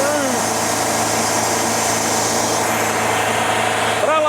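A steady, loud mechanical drone of a Wood-Mizer sawmill cutting slowly through hard, dead white oak runs throughout, with a whining engine hum underneath and no pauses.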